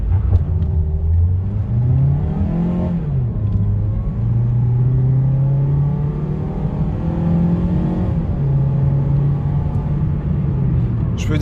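A Mazda CX-3 crossover accelerates on the road, its engine note climbing steadily through the revs with a drop at a gear change before it rises again, a loud, continuous hum heard from inside the cabin.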